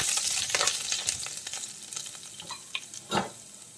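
Urad dal and chana dal frying in hot oil as they are stirred, a steady close sizzle broken by scraping, clinking stirs against the pan, with no talking.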